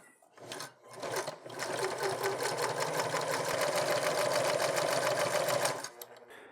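A sewing machine runs a steady stitch around the outside edge of a fabric mask piece, its motor buzzing continuously and close for several seconds after a brief start, then stopping.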